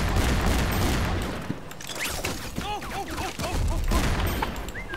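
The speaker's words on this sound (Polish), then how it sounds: "ktoś tu do mnie strzela" Gunfire in the online game HeroesAwaken, a dense rattling volley of shots and impacts that surges, thins around the midpoint, then picks up again, with a player speaking briefly.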